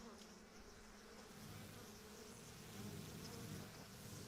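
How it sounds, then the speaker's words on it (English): Bees buzz in a Lord of the Rings Online game scene as a steady, soft insect drone. It is faint and continuous throughout, with no voices. "especially if we're going to have bees coming all over us from the"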